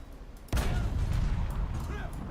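A tank blows up in War Thunder, with a sudden loud boom after a short quiet lead-in and a rumbling, crackling roar that rolls on and slowly fades.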